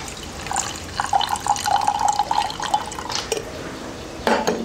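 Water poured slowly from a gooseneck kettle onto ground coffee, a steady close trickling stream with a faint ringing tone that runs for a few seconds, breaks off, then resumes briefly.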